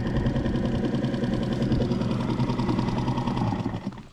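Outboard motor of a fishing boat idling on a wild lake, a steady close chugging rumble heard alone that stops abruptly at the end.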